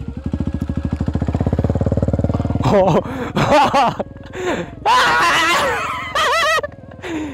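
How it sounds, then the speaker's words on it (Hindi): KTM Duke 390 motorcycle ridden by a first-time rider, its engine putting close by in a steady rapid thrum at first, then fading beneath excited voices and laughter. "अभी स्वाति फिर से चलाने वाली है मेरी बाइक"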